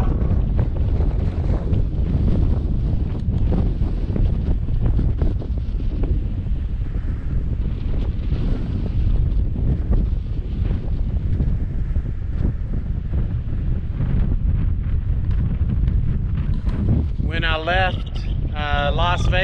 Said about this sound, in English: Man, the wind is really blowing.